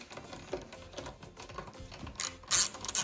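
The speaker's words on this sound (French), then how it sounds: "Et là, tu mets les vis." Screws being driven into a PC case during a gaming PC upgrade, quiet scattered clicks and ratcheting turns, with a few sharper metallic taps near the end.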